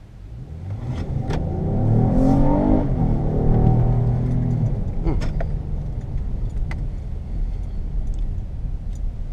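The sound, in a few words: 2017 Acura MDX 3.5 liter V6 accelerating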